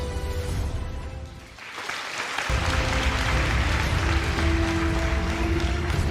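An audience in a room in Varna bursts into dense, steady applause that builds after a brief lull and holds loud and even for several seconds.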